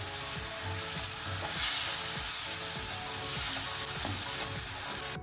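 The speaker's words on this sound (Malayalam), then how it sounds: "ഇത് നല്ലതായിട്ട് വഴറ്റി എണ്ണ തെളിയുന്ന വരെ ഒന്ന് വെയിറ്റ് ചെയ്യാം." Palak egg curry masala with tomato paste sautéing in oil in a pan, a steady close sizzle with soft stirring scrapes throughout, swelling briefly louder twice, with no voices.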